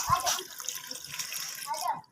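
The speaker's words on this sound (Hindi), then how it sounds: "इसके साथ ही हम इसमें पानी ऐड कर देंगे।" Water is poured into a cooking pot of meat for namkeen gosht, a short splashing gush at close range with someone talking over it.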